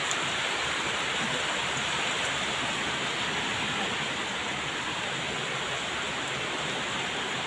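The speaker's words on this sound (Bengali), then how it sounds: "এই দেখেন কিভাবে বৃষ্টি পড়তেছে।" Heavy rain pours steadily over Dhaka city during a stormy, windy downpour, making a dense, unbroken hiss that stays loud and even throughout, with no voices.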